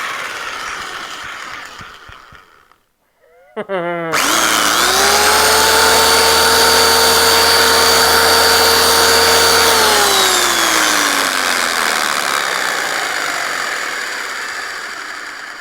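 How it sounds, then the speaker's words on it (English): An SDS masonry drill revs up sharply after a brief quiet, holds a loud steady whine for several seconds, then winds down slowly as the motor spins out. "This is an SDS masonry drill."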